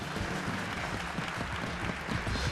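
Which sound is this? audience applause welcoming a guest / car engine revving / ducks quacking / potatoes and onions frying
audience applause welcoming a guest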